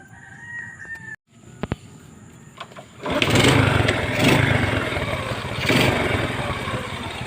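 A motorcycle that is hard to start on cold mornings catches after a few faint clicks and knocks, then its engine settles into a loud, rough, steady idle close by.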